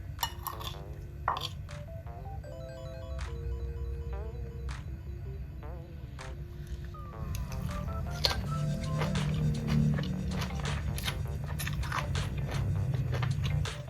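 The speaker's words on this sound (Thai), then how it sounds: "หน่อไม้กรอบมากเลยค่ะ สุดอร่อย" Crunchy bamboo shoots from an old-style coconut milk soup with dried shrimp being chewed close by, a steady series of crisp bites and crunches over a low continuous hum, with faint clinks.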